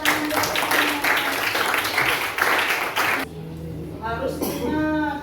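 Pupils in a classroom clap for their classmates, a lively burst of many hands lasting about three seconds before it stops and a voice talks.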